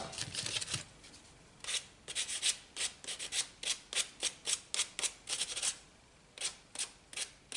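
Sandpaper rubbed by hand over a small wooden boat part, a quiet, rhythmic series of short, evenly spaced scratchy strokes, close and alone.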